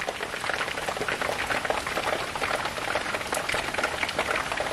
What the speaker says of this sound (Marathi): पाऊस पण चालू झाला आहे.